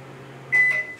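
Microwave oven humming steadily with a low drone, then a sharp electronic beep rising over it halfway through, close and fairly quiet with no talk.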